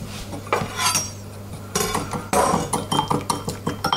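A spoon clinks and scrapes against a bowl while mixing an olive oil mixture for pumpkin (potimarron) recipes, in repeated close, bright taps and rattles with no talking.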